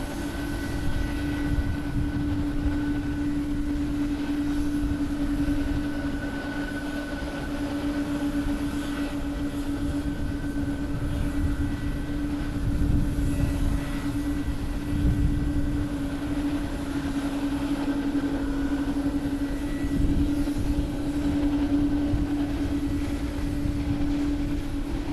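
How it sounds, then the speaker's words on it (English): An All Nippon Airways Boeing 787-8 Dreamliner arriving from Osaka lands at Haneda Airport in Tokyo, a steady moderate jet rumble with a constant droning hum running throughout. "Landing is going to be on Nippon Airways Flight 14 from Osaka, Japan. A 1-hour flight aboard a Boeing 787-8 Dreamliner"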